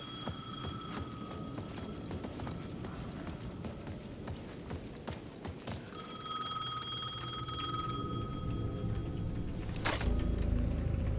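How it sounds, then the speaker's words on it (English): A payphone rings at the edge of a plaza in the video game Alan Wake 2, with steady repeating electronic trills over dark ambient game sound, ending in a sharp hit and a low rumble. "The payphone at the edge of the plaza was ringing again."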